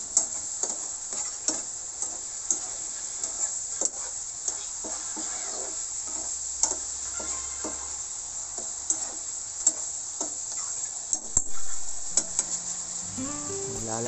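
Chicken liver and gizzard adobo stirred in a pan, with repeated scraping knocks of a utensil over a steady high sizzle, close and clear with no talking.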